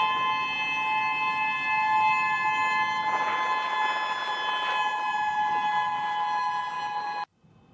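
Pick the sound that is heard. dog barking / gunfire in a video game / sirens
sirens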